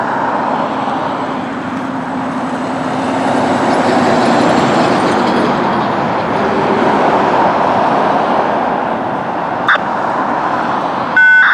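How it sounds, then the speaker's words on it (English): A Norfolk Southern intermodal container train rolls past at Cove, Pennsylvania, a loud, steady rumble of railcars with a faint tonal whine, and a sharp click near the end. "It's a container train!"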